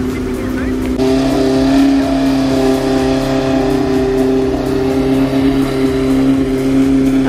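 Sports cars, including a purple Lamborghini and a Ferrari, at a speed festival in San Bernardino, Switzerland; a loud sustained engine drone holds steady throughout, with people talking over it.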